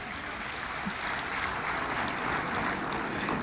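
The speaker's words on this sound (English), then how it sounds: "Another round for applause to Irungu Kangata." Applause for Irungu Kangata at the Devolution Conference 2025, a steady even wash of clapping from a large audience, continuous and moderately loud throughout.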